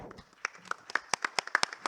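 Audience at a 2023 Korean summer academic conference clapping to welcome a presenter, sparse and uneven claps rising in density over a couple of seconds, fairly quiet in a hall.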